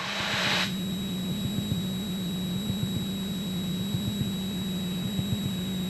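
A light aircraft engine drones steadily in flight as the throttle is reduced, producing a constant close hum with a brief brighter whoosh at the start and no voices.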